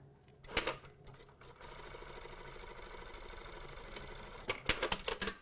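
A sewing machine runs a stay stitch on trousers, a steady, fairly quiet motor hum lasting a few seconds, framed by clicks and handling noises at start and end.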